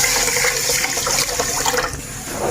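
Water poured onto washed rice in a pot, a loud, close gushing rush of running water that tapers off near the end, with no talking.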